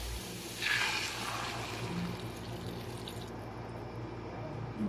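Water is poured into a pan while cooking pancit canton, a steady close rush of liquid that runs for several seconds without a break.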